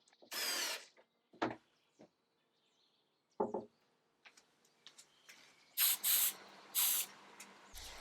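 Lacquer toner sprays onto thin veneer on a 1936 Art Deco drinks cabinet in short hissing bursts of about a second each, separated by quiet pauses and small clicks of the spray gun.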